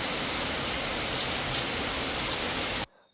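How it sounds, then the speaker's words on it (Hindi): Heavy rain pouring down at night, a dense, steady roar of close, loud downpour that cuts off abruptly near the end, leaving near silence. "आज इतनी ज़ोरों से बारिश हो रही है"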